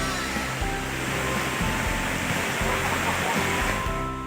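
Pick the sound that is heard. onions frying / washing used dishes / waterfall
waterfall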